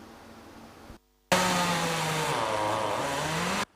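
A chainsaw-type engine cuts branches from a large fallen elm that crushed cars on a street in Padova, worked by firefighters. After a short silent gap it runs loud and steady at high revs, its pitch sagging and recovering under load.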